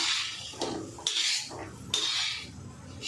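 Dry-roasted peanuts scraped and tipped from a pan onto a metal plate already holding urad dal, a few rattling, scraping bursts close by with no talk.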